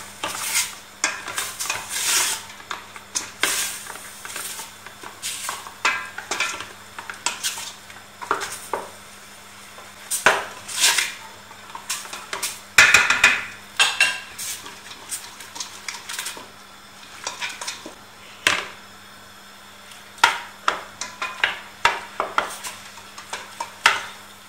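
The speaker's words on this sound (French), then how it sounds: "on va laisser revenir jusqu'à ce que la viande prenne une couleur dorée" Seasoned meat browns in a pot for couscous, a soft sizzle under repeated bursts of stirring, with a spoon scraping and clinking against the pot at irregular intervals.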